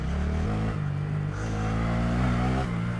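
Honda Grom motorcycle riding off-road on a byway, a small single-cylinder engine droning steadily at low speed, close and continuous with slight shifts in pitch.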